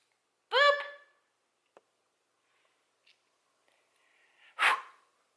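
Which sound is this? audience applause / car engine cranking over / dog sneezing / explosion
dog sneezing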